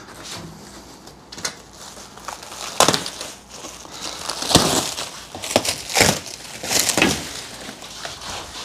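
Plastic packaging is pulled and torn off an ACIQ HVAC unit, giving a close series of loud crinkling, crushing rustles in irregular bursts, growing busier toward the end, with no talk.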